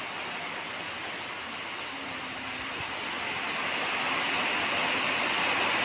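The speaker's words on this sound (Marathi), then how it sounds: "नंतर संध्याकाळी खूप जोरात पाऊस चालू झाला" An evening downpour of heavy rain mixes with the rush of a swollen river, forming a dense, unbroken roar of water that swells slightly louder toward the end.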